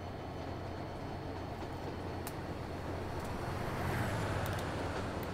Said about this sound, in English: There's another fuel train right behind us.